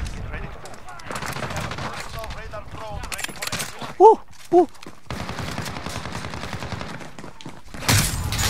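Gunfire in a Call of Duty Modern Warfare match: bursts of rapid shots and scattered game effects under excited talk from the player, with two short whooping calls midway.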